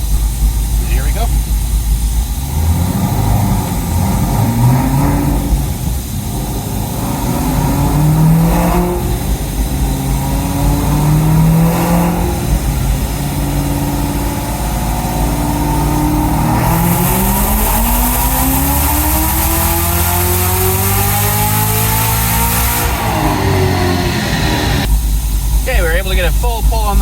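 A 2018 Chevrolet Camaro ZL1 1LE in track mode makes a full-throttle pull to 7,000 RPM, the engine note rising loud and continuous through repeated climbs, with speech heard over it.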